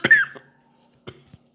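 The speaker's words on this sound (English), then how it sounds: "I don't know why I coughed there." A person coughs once sharply, then a brief quieter throat-clearing cough follows about a second later, close and alone in a quiet room.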